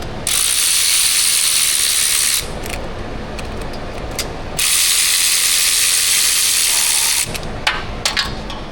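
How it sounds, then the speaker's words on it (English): Large Snap-on ratchet working a bolt during a Toyota 4.7 timing belt job, heard as two long, loud, rapid clicking bursts separated by a quieter gap, followed by a few scattered clicks near the end. "I have the big snap-on ratchet in there"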